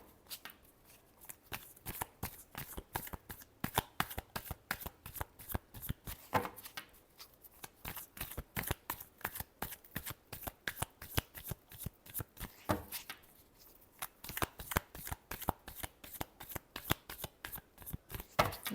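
Tarot cards being shuffled by hand, a dense run of crisp riffling flicks and slaps, close and fairly quiet, continuing steadily for the whole stretch with only short pauses.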